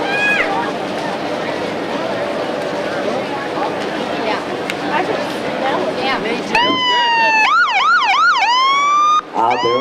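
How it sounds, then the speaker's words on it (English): Police sirens at a Fourth of July parade in Granbury: a crowd murmurs and an announcer talks, then loud wailing and yelping sirens burst in close by and sweep up and down. "Out there are the sirens. We know they're just about here."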